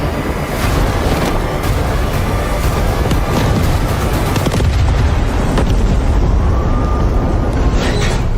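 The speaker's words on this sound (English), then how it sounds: "Hydrogen explosion at Reactor 2." A loud, sustained roaring rumble from a hydrogen explosion at a reactor in a video game, a dense boom that continues throughout with a wash of broadband noise and no talking.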